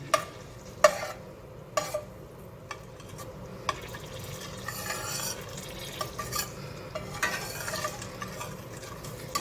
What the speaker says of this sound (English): our butter is getting nice and melty